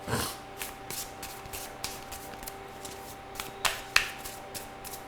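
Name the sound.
shuffling cards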